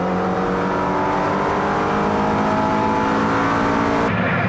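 Toyota MR2 and Mazda MX5 race cars accelerate hard off the start line at a circuit race, a dense loud engine drone with climbing revs heard from on board.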